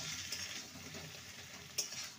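Brinjal cooked with spices in a frying pan gives a soft, faint sizzle with light stirring scrapes and one brief louder clink near the end, close by and without speech.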